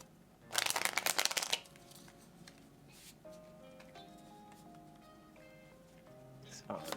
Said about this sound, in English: We're going to take 3 cards from the tarot.